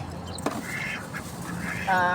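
Ducks quack in short bursts at close range, with a brief knock partway through and a steady background hum.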